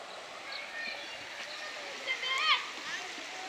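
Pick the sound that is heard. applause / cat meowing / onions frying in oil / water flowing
water flowing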